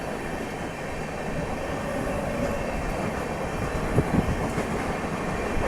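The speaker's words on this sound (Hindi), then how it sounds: "ये जो भी ट्रेन थी इसको हमने ओवरटेक कर लिया" On a Patna Express train, a passing train on the parallel track is being overtaken, heard as a steady, loud rolling rumble with faint rhythmic clacks from inside the carriage.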